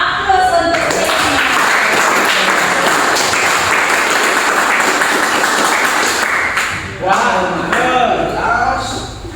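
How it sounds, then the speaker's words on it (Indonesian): Classroom applause for a student named Ferdi, a burst of clapping from a group that swells and holds for several seconds before fading, with a voice speaking at the start and again near the end. "Luar biasa, aplaus untuk Ferdi."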